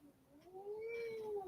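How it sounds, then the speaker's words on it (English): An indoor cat lets out a single drawn-out, rising and falling meow, fairly close and alone, with faint room noise behind it. "Cats are acting up."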